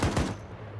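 A burst of rapid gunfire in Arma 3 cracks out loud and close, two sharp reports in quick succession followed by a fading echoing tail.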